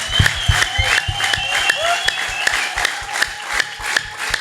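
A church congregation keeps clapping, often falling into a rhythmic, roughly regular beat of many hands striking together, with a faint background tone and some crowd murmur beneath.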